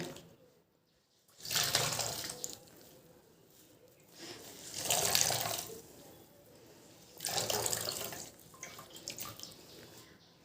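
Water is wrung out of a hot wet towel during an at-home hair spa, splashing and trickling in three separate bursts with quiet gaps between them, close by and with no talk.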